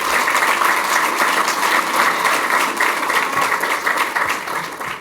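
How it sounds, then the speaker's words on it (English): A crowd applauds steadily at a civic speech honoring State's Attorney Kimberly M. Foxx, a dense, loud wash of many hands clapping that carries on for about five seconds before easing slightly at the end. "You can clap for that"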